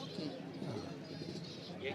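Pigeons coo softly amid the steady din of a crowded bird market, where adult breeding pairs are kept in cages; a continuous murmur of voices and market chatter runs throughout the clip.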